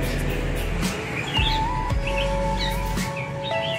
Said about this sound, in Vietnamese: Giọng hót của chim tiểu thang là cũng giống như chim chích chè đất nha anh em, có điều hơi nhỏ một tí đó